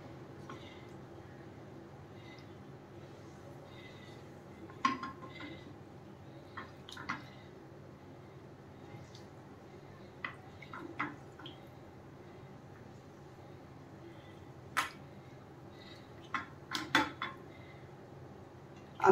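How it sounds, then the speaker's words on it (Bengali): Pieces of katla fish are slipped one by one into gently simmering coconut milk in a pan, giving faint soft plops and occasional light clinks against a quiet bubbling background. "যখন একটু একটু করে ফুটছে, তখন আমি একটা একটা করে মাছ এর মধ্যে দিচ্ছি।"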